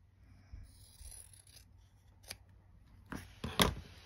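Scissors cut quilt fabric to trim a quarter-inch seam allowance, a few quiet, close snips and a soft rasp of blades through cloth, with faint handling noise between cuts.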